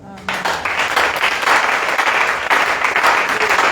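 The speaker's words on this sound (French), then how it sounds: "Acclamons pour l'ancien énorme." A church congregation bursts into loud, dense applause during a sermon, sustained clapping that starts abruptly and fills the whole stretch close and strong.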